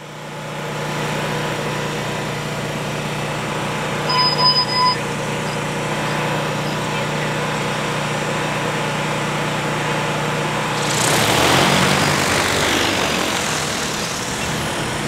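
An agricultural spray drone flies over a wheat field with a steady, buzzing motor hum, swelling into a louder, rougher rush near the end as it lifts away.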